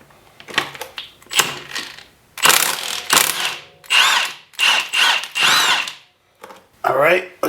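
Power tool driving out the two chain tensioner bolts on a Harley-Davidson Road Glide performance bagger during clutch teardown, in loud close bursts of whirring separated by short pauses, with no talk over it.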